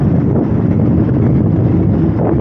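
Strong wind buffets the microphone outdoors on a cold day in South Korea, a steady loud broadband roar that lasts throughout with no voices.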